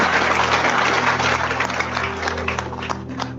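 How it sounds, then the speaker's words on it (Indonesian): An audience claps at a religious gathering, dense steady applause lasting a few seconds over a low background hum. "Tepuk tangan sekali lagi ya."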